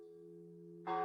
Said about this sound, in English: That's the clock tower that chimes every hour.